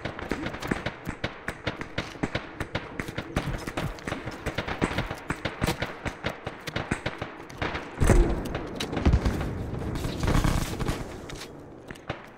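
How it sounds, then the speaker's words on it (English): Gunfire in the Arma 3 military game rattles in rapid repeated shots and bursts, fairly faint and distant, with a couple of louder blasts near the end. "The gunshot."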